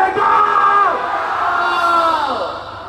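An Indonesian crowd shouts "ilegal" in unison on a speaker's call, one loud drawn-out cry lasting about three seconds before it fades.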